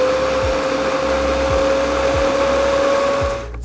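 Irit IR-5043 kitchen chopper whirring steadily as its blades blend vegetables with a little water into a smoothie, a loud continuous motor drone with a few faint bumps, cutting off just before the end.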